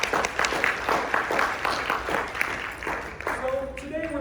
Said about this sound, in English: Give a round of applause for our AV team.